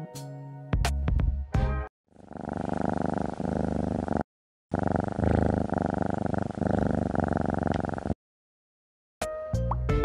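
Catnap, the monster from the video game Poppy Playtime Chapter 3, gives a low, continuous purring growl in two long sustained stretches, bracketed by brief sharp sounds and a short silence.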